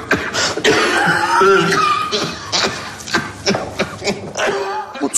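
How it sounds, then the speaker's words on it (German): Harsh coughing from a film scene, several rough bursts mixed with voices and rustling shuffles, fairly loud and close. "Also so zumindest klingt der Husten, oder?"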